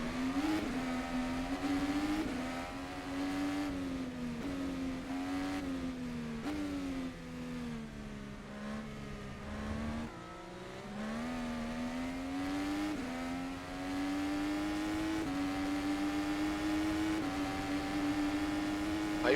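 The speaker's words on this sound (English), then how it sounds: "Looking forward to race this car around the track." An IndyCar Dallara IR-18 race car engine in the rFactor 2 racing game, revving loudly and steadily with rising and falling pitch sweeps as gears change, continuous throughout with no talk.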